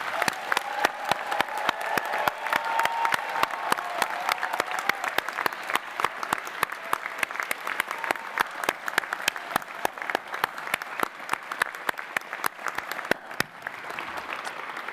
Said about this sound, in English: Can I please ask you all to join me in giving them all a large round of applause?